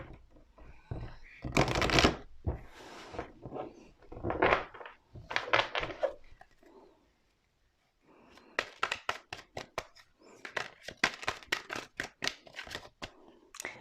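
Tarot cards are shuffled in bursts of riffling and rapid flicking, close and crisp, with a short pause before a long run of quick card snaps.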